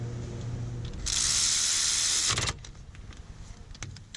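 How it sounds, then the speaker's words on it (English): A power tool or ratchet whirs steadily for about a second and a half while the brake caliper bolts are tightened on a Pontiac G6 during a rear brake caliper replacement, followed by quieter mechanical clicks and rustling nearby. "Tighten down the caliper bolts."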